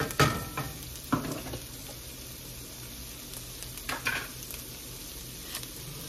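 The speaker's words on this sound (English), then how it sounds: "We're just gonna add it all, okay? And saute that a little bit." Shrimp and crab dip ingredients sauté in a hot pan, a soft continuous sizzle broken by a few sharp stirring scrapes and clinks, close and fairly quiet, with no talking.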